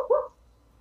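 A single short bark or yip from a dog, fairly close and over within a fraction of a second, followed by near silence.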